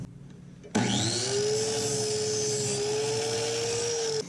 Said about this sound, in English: So at this point, we're simply just going to cut the shaft.